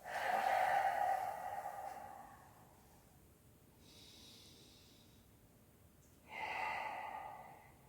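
Slow, deep breaths taken during a Pilates exercise: a long, loud airy exhalation at the start, a quieter breath in the middle, then another strong exhale near the end, with no talking.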